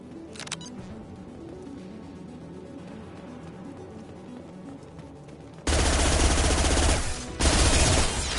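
Heavy gunfire rattles in the Mass Effect video game, a steady stream of rapid shots that suddenly becomes much louder and denser in the final few seconds, broken by a brief pause.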